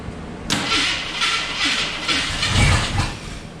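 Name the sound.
Derby Eagle engine being cranked to start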